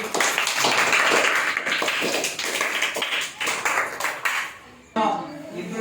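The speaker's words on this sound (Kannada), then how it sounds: "ಎಲ್ಲರ ಅಕ್ಕಿಗೆ ಚಪ್ಪಾಳೆ ಮೂಲಕ ಅಭಿನಂದನೆ ಹೇಳಿ" Eighth-grade classroom students applaud together, a dense burst of clapping lasting about five seconds before it cuts off and a voice briefly speaks.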